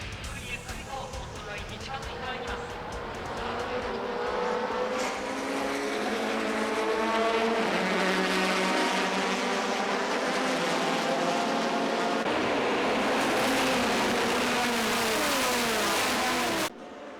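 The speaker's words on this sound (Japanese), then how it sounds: "ペースカーがピットに入り大観衆が見守る中スタートが切られる" Race cars in a JGTC race pulling away from the start before a large crowd, with a loud continuous roar of engines rising in pitch as they accelerate, under a narrator's voice.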